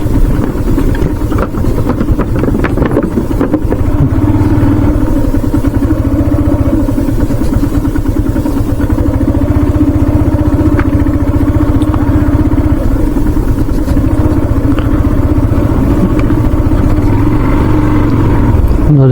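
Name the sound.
motorcycle riding across a river sandbank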